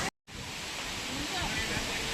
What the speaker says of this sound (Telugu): చూసారు కదా బ్యూటిఫుల్ వాటర్, కొండపై నుంచి వస్తాయి వాటర్.